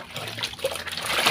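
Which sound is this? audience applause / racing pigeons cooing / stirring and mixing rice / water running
water running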